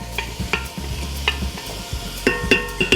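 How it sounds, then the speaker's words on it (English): Beef stroganoff sizzles steadily in a hot pan, punctuated by clinks and scrapes of a utensil stirring against the metal. "get a sizzle going"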